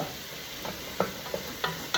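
Meat and vegetables for cottage pie sizzle steadily in a hot pan, with the liquid cooked off, while a utensil stirs, with a few sharp scrapes and clicks over the frying hiss.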